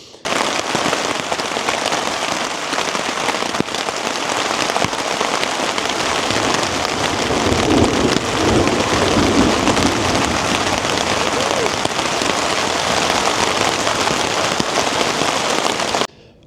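Heavy rain drums continuously on the fabric of a Tarptent Double Rainbow DW Ultra tent, a dense, loud hiss of impacts heard from inside that stays steady for about sixteen seconds before stopping abruptly.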